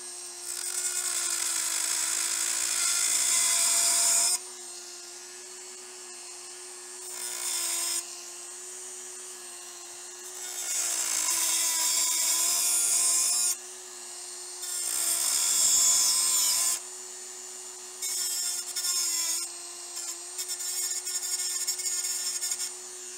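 A high-speed rotary tool spinning at about 20,000 RPM cuts off a post on a 3D printer board, giving a steady high whine with several bursts of louder grinding as the bit bites, fairly close and with no talk.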